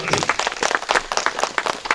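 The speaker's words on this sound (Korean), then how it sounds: "박수로 맞이해주시면 고맙겠습니다." A forum audience welcomes a speaker with brief applause, a short burst of dense clapping from many hands heard close, with faint voices underneath.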